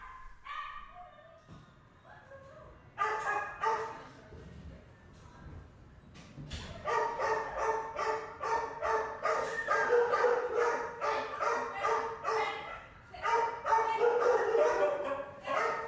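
Several large dogs whine, yelp and howl together in pitched, wavering cries that build and overlap, loud and close.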